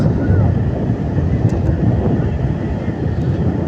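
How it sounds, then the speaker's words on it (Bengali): Sea wind blows across the beach at Mandarmani, buffeting the microphone with a low, continuous rumble that stays fairly loud and steady throughout. "এই হচ্ছে সমুদ্র। আহা কি হাওয়া!"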